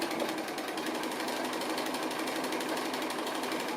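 A sewing machine stitching appliqué runs steadily and close, a fast even needle chatter with a low motor hum, continuous and alone with no talking.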